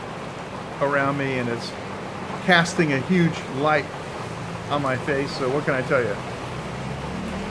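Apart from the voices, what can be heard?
rain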